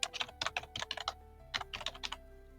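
Close computer keyboard typing in quick irregular clusters of crisp key clicks, broken by a short pause, over a steady low electrical hum.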